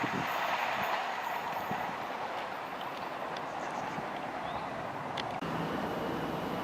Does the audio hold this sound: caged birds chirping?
no